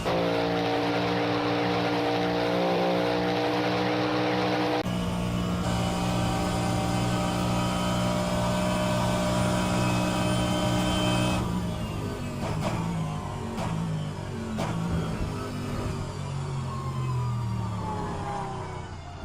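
A race car engine in rFactor 2 roars steadily from outside, its pitch shifting as it revs up and down through gears, loud and continuous.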